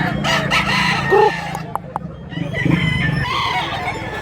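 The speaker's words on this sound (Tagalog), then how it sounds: "Naghangit manok" Roosters crowing among a crowd of chickens, with repeated crows and clucks overlapping close by in a busy, noisy scene.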